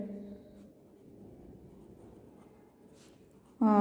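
A pen scratches softly and steadily on paper at close range, writing out a maths equation for a class lesson, faint and continuous until a voice cuts in at the very end.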